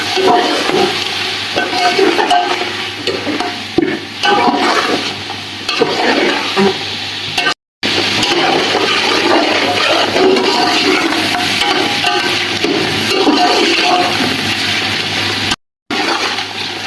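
Boiled beef with spices is frying and being stirred in a pot for yakhni pulao, giving a loud, steady sizzle with continuous scraping and stirring and two brief cut-outs.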